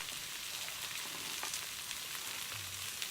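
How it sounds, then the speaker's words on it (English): Faint, steady crackling and sizzling of meat frying in a hot pan outdoors in the mountains, a continuous fizzing with scattered pops, no voices. "while the meat was still sizzling away"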